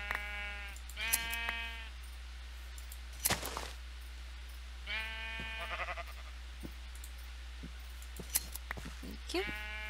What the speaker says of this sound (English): Or actually, these are sheep.